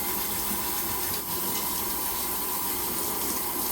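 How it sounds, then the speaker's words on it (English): Water runs steadily from a kitchen tap while a spatula is rinsed under it, a continuous close hiss and splash with no talking. "I'm gonna wash off the spatula"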